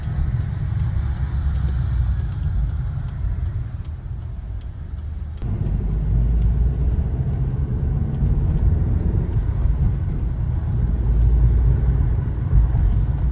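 Chevrolet cars pass on a street in Uzbekistan, giving a continuous low rumble of engines and tyres that swells as nearer vehicles go by, with no voices.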